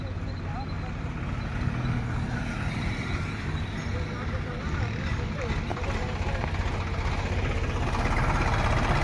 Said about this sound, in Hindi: ये ट्रैक्टर घूम के आएगा अब,